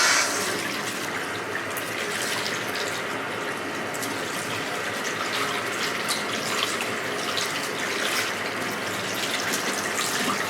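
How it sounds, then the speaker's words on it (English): Running water pours steadily from a tap while permed curly hair is rinsed out, a continuous close splashing hiss with slight variations as the stream is moved around. "So now I'm gonna rinse out the hair."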